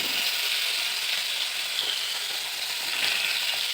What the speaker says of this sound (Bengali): এপিট ওপিট করে মাছগুলো ভাজা হয়ে গেছে